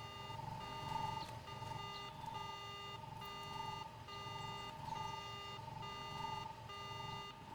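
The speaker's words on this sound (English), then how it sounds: "Slice into the speeder and activate its alarm system, maybe?" A speeder's alarm in Star Wars: Knights of the Old Republic rings out in a steady, repeating electronic beeping pattern with evenly spaced pulses, moderately loud and alone.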